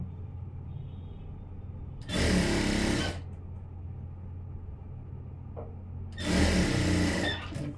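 Sewing machine stitching an aari work blouse lining, two separate bursts of loud motor whirring about a second long each, with quiet pauses between.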